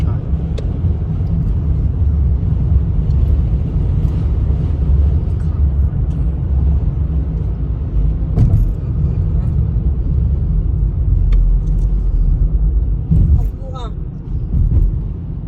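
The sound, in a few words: road traffic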